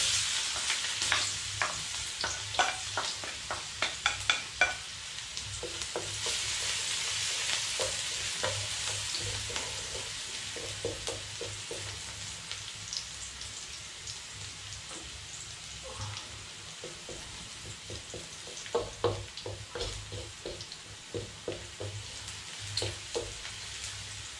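Garlic sizzles and crackles steadily in a hot pan, with repeated scraping stir strokes and soft clicks over the frying, close and fairly quiet throughout.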